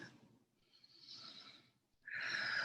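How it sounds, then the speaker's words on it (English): A slow, deep breath close to the microphone, heard as a soft airy inhale followed by a louder breathy exhale, quiet and unaccompanied by talk. "Breathing deeply."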